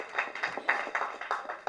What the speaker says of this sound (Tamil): அதனால் தயவு செஞ்சு நீங்களே ஒரு தடவை கைத்தட்டிடுங்க.